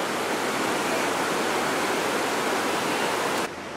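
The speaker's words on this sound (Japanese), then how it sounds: "細い糸のように落ちてくる滝で" Ginga Falls, a tall waterfall whose water drops in thin thread-like strands, gives a steady, even rush of falling water, close and unbroken, before quieting slightly at the very end.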